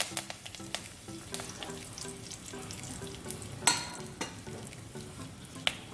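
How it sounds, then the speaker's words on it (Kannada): Mustard seeds, cumin and curry leaves sizzle in hot oil in a pan for tempering, giving a quiet, steady frying hiss broken by sharp crackles and pops, with no voices. "ಇದನ್ನ ಇವಾಗ ಒಂದು ಬಾಣಲೆಯಲ್ಲಿ ಎಣ್ಣೆ ಕಾಯಿ ಇಟ್ಕೊಳ್ಳೋಣ ಒಗ್ಗರಣೆ ಸಲುವಾಗ."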